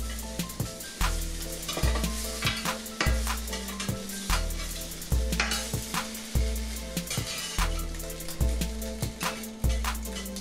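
Bologna slices fry in a hot pan with a steady crackling sizzle, close and loud, broken by regular scrapes and taps of a utensil stirring and shifting the meat.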